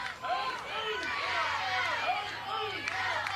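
Steady crowd buzz and scattered chatter from spectators at a Little League baseball game in the West Region, a diffuse murmur running throughout with repeated swooping tones and occasional sharp claps above it.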